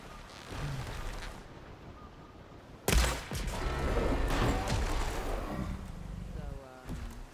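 Shots and a sudden heavy blast ring out in Horizon Forbidden West, a sharp impact followed by a rumbling, sustained roar. Voices talk over the combat.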